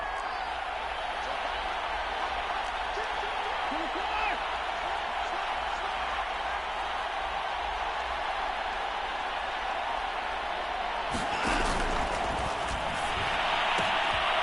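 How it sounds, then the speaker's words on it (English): A large stadium crowd at a football game roars in a steady, dense wall of noise that swells louder near the end, with a broadcast voice talking over it. "this crowd rises to make things difficult"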